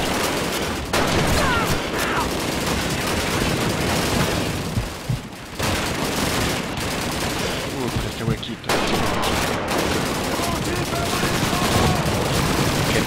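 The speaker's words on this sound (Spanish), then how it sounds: "La batería, el tipo de la ametralladora de nuevo." Dense machine gun fire and other gunshots in the video game Call of Duty 2, a loud continuous barrage of bursts with brief lulls, a voice talking at times beneath it.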